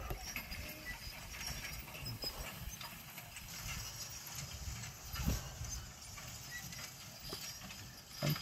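Irregular hoof clip-clops from working horses moving nearby in a field over a steady outdoor background, with occasional faint rustles.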